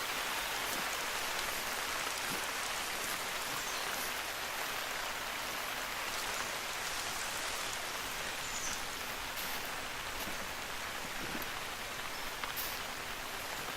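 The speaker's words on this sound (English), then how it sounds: "Now, rain in this game is an interesting dilemma" Steady, dense rainfall in the hunting game theHunter: Call of the Wild, a constant broadband hiss of drops on foliage and ground, even in loudness throughout with no voices.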